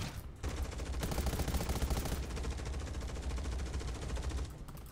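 Sustained automatic gunfire in the zombie survival shooter Undawn, a dense rapid stream of shots that runs almost the whole time, loud and close, with a brief break near the start and none of the players talking.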